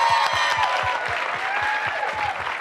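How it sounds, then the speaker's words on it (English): An audience gives a round of applause after a motivational talk, dense steady clapping filling the room for the whole stretch, fairly close and loud with no voices over it. "Please give the Godders a big round of applause."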